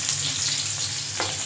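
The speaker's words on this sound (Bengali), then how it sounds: "ভেন্ডি ভাজাকে পাঁচফোড়ন আর কাঁচা লঙ্কা দিয়ে ভাজতে দিয়ে দিয়েছি" Okra sizzles in hot oil with panch phoron and green chilies, a brief, close, continuous frying hiss with no voices.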